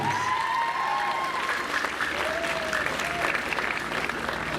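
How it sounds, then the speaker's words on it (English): Families and graduates applauding parents and teachers at an eighth grade advancement ceremony, a continuous, fairly distant crowd clapping with faint voices and whistles mixed in. "please join me in applauding your parents and your teachers and your entire families"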